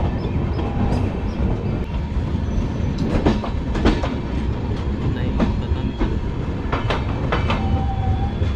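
The Howrah Amritsar Mail rolls along the rails with a loud, constant rumble and rattle, periodic clacks of wheels over joints and a brief squeal near the end; a voice speaks briefly early on.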